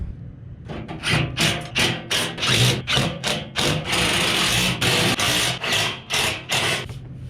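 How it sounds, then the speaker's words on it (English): A rooftop unit blower assembly being set in place, screwed together and shoved back in: a dense run of about a dozen loud scraping, rubbing thuds in quick irregular rhythm, close up and alone. "I'm gonna place it on, screw it all back together and shove it back in."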